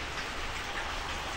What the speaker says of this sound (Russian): На улице опять дождь пошел.